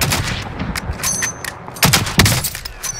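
Rapid bursts of gunfire from Modern Warfare, a sniping match: a string of sharp broadband cracks, with two heavier close shots near the end over a busy game background.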